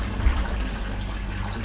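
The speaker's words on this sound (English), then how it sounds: "Just turn the hot water off." Hot water running from a tap into a tub aboard a boat in Alaska, a steady close rushing gush with no talk.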